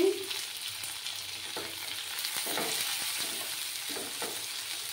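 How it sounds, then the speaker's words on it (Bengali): Onion and tomato frying in a pan for a mustard-sauce chapila fish curry, a steady close sizzle with occasional scraping stirs, heard alone without talk. "পেঁয়াজটাকে একটু লাল করে ভেজে নিতে হবে।"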